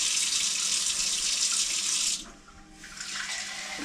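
Hot water from a kettle streams into a freeze-dried trekking meal pouch, a bright steady splashing pour that breaks off briefly, then resumes a little quieter, close up with no talking.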